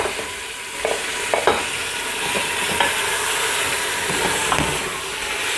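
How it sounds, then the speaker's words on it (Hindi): Beef chunks fry in garlic and ginger paste for nihari, a steady close sizzle and hiss with occasional scrapes and clinks of a stirring spoon against the pot, no talking. "और अब गोश्त को डालने के बाद हम 10 मिनट तक इसको अच्छी तरह से भूनेंगे"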